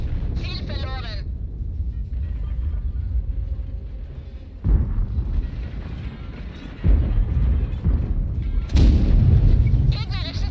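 Tank gun shots in World of Tanks while playing toward the Leopard 1, several heavy booming reports with mechanical clatter, mixed with in-game German voice callouts and a player talking.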